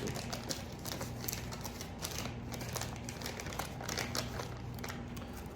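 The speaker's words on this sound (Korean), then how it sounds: "이거 뜯으면 또 이게 공기가 들어가게 되는데 오늘 한번 뜯어보겠습니다" A sealed culture media packet is torn open and handled, producing close, continuous crinkling and crackling of plastic with small irregular bursts over a soft background hum.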